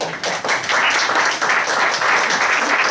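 Audience applause after a speaker is introduced at a talk on the history of automation, a dense steady wash of many hands clapping, loud and sustained throughout with no voices over it.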